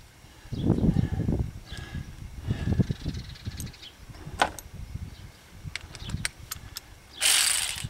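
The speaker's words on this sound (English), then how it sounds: "I'm only using this wrench to pull it up." A wrench ratchets on a spark plug in a 2.4L Chevy HHR engine bay, making close, uneven bursts of clicking and scraping with sharp metallic ticks, then a brief loud hiss at the end.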